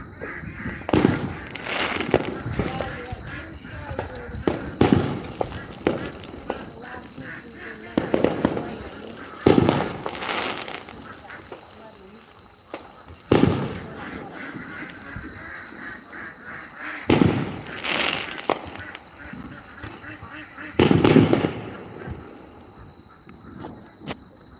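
Fourth of July fireworks exploding outdoors, repeated booming bursts every few seconds with crackling tails and scattered pops from farther away, while people talk nearby.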